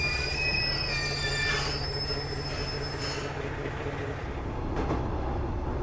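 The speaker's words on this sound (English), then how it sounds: "this is going to be my train back towards Tokushima" A train from Tokushima rolls into a Japanese station with loud, sustained high-pitched wheel squeals over a constant rumble, the squealing fading before a final brief screech.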